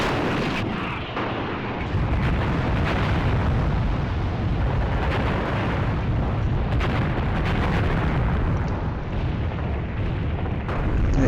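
A tank hit and exploding in the war game Graviteam Tactics, Operation Victory in Iran: a loud, continuous rumble of distant explosions and artillery-like booms, sustained throughout with no voices.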